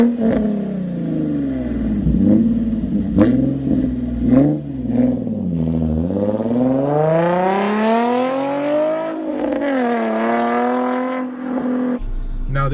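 A Nissan 350Z with a Motordyne Shockwave TDX2 exhaust revs repeatedly up close, short blips rising and falling before a long climb to high revs and a drop back to a rumbling idle, with no talk over it.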